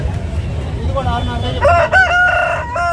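An Aseel rooster crows loudly and close by at a rooster market in Nellore, one drawn-out call rising over a steady background of market noise.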